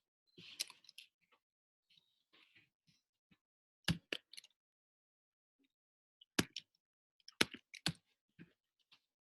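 Close, quiet clicks of keys on a computer keyboard come in scattered short bursts separated by silent pauses.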